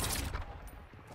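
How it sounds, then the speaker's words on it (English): Short burst of rapid gunfire in Call of Duty: Modern Warfare II's DMZ mode, a loud crackling fusillade that fades out within about a second. "taking effective fire"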